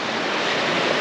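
Sea waves on the Bass Strait shore on the Tasmanian side, a dense continuous broadband wash of surf, close and fairly loud, mixed with some wind, no voices.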